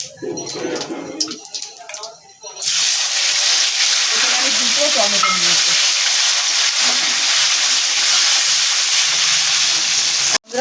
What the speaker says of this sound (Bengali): টমেটোটা তো একদম ভাজা হয়ে গেছে